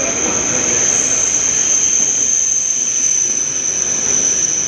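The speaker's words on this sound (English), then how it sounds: "The 2:44 service now arriving into platform 21." A Shinkansen bullet train arriving at a platform in Tokyo, a loud, steady rushing roar with a sustained high-pitched wheel squeal running through it.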